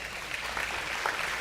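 A crowd at an agricultural appreciation event and livestock sale claps for a buyer, a faint, distant patter of applause lasting a moment and a half.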